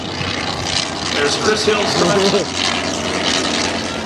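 Fokker Dr.1 triplanes with propeller engines fly overhead together, a steady droning roar that swells and holds throughout while people talk over it.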